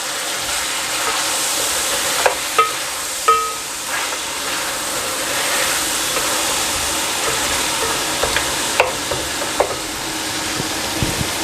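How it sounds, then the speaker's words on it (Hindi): Ginger garlic paste fries in a pot for mutton korma with a steady close hiss and sizzle. Occasional stirring clinks and scrapes sound against the pot, with no talking. "मैं इसमें डालूँगा सबसे पहले 2 टेबलस्पून अदरक लहसुन का पेस्ट और 1-2 मिनट के लिए इसको और मैं अच्छी तरह भून लूँगा"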